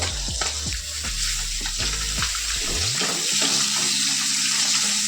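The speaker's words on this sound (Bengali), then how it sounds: "সব মাছগুলোকে উল্টে পাল্টিয়ে লাল লাল করে মাছগুলোকে দু পিঠি ভেজে নিতে হবে।" Small puti fish fry in hot oil, a steady loud sizzle with clattering knocks of the fish being turned in the pan, ending in a bright continuous crackle.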